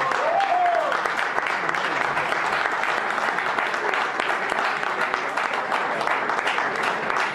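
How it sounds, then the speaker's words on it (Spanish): A concert audience applauds steadily as a guest musician is welcomed onstage during a rock cover-band show, a continuous dense patter of clapping with a brief shout near the start. "Lo recibo con un aplauso a Agustín Pinto"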